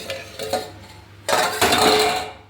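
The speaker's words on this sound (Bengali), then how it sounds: "এবারে আমি ঢাকনাটা খুলে তোমাদেরকে একবার দেখাই" A lid lifted off a pot of chicken curry on a switched-off gas burner, giving a few light metallic clinks followed by a louder, longer clatter and scrape of metal close by, with no talking.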